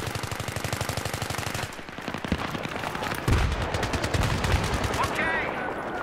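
Sustained suppressing machine-gun fire in Battlefield 3, a rapid steady stream of loud shots that breaks off briefly and resumes with heavier, booming rounds, with players talking over the firing.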